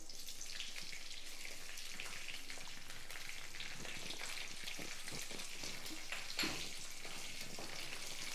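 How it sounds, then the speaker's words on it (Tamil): Cumin seeds and broken dried red chillies fry in oil for tomato kuzhambu with a faint, steady sizzle and light crackle like soft rain, quiet and continuous, one small knock near the end. "சீரகம் லேசாக பொரியட்டும்"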